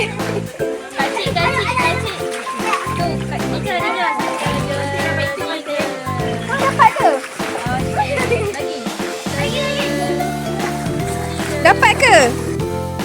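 Children jumping and splashing into a swimming pool at a holiday retreat in Sungai Gabai, Hulu Langat, Selangor, with repeated splashes under constant lively children's chatter and shouting.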